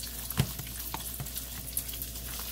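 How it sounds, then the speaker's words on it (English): A small piece of burger meat frying in a buttered pan, a quiet continuous sizzle with light crackles and a few soft pops, close and faint. "I got me a little piece of that meat in the pan."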